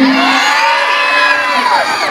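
A dense crowd cheers, whoops and shouts at the Krus na Ligas Goddess 2024 beauty pageant during the national costume segment. The noise is loud and sustained, with high excited voices rising over the whole stretch.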